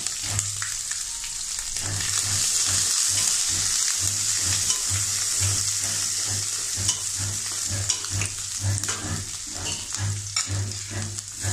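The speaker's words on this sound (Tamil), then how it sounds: "கடாயில் 2 டேபிள் ஸ்பூன் எண்ணெய் ஊற்றி அதில் எண்ணெய், கடுகு, கறிவேப்பிலை, வற்றல் மிளகாய் போட்டு தாளித்து" Mustard seeds, curry leaves and dried red chilies tempering in two tablespoons of hot oil in a kadai: dense crackling sizzle with sharp pops and a regular low thumping throughout, no talking.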